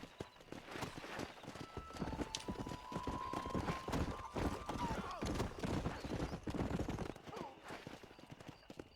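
A horse gallops in the Western game Red Dead Redemption, hooves pounding in fast, steady clip-clop rhythm close by, with a brief whinny-like tone over the middle stretch.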